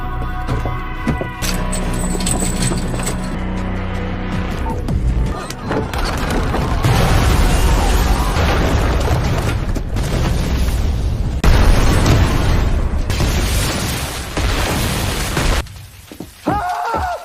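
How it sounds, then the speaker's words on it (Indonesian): A temple and an iron room blow up in a film scene: deep booms and roaring blasts with shattering debris, loud and sustained for several seconds under a voice speaking. "tidak hanya kuil saja yang meledak, tetapi juga ruangan besi yang tepat berada di belakang Andu dan Jilong"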